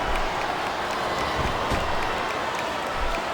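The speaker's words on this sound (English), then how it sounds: "Listen to the crowd, JR. I think they've got something to say to these superstars." Wrestling arena crowd at WrestleMania 22 producing a dense, steady roar of many voices and scattered clapping, loud and continuous throughout.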